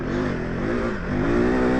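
A KTM 390 Adventure R motorcycle engine revs high above 5,000 RPM, loud and close, with a steady rising buzz that climbs again near the end.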